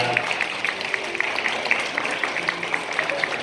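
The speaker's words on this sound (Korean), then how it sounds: "따뜻한 박수 부탁드립니다." Wedding guests clapping during a Korean wedding ceremony, a steady, moderately loud wash of applause from a crowd lasting throughout, with faint repeated higher tones in the background.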